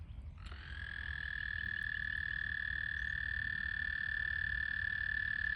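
Frogs calling from a small garden pond early in the season, a dense continuous high trill that swells in after a faint start and holds steady, fairly close and alone.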